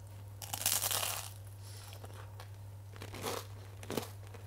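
Bites into a crunchy homemade keto vegan five-seed cracker, giving a loud crackling crunch near the mic, then two smaller crunches as chewing goes on, over a steady low hum.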